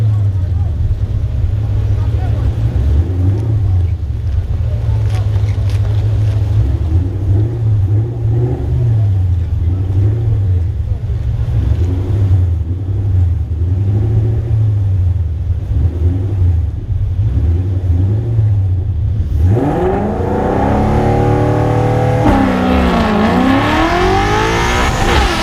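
A Ford Mustang Fox body idles loud and lumpy at the drag strip, then launches hard at 4500 rpm. The engine roars and climbs through rising revs near the end, close and dominant.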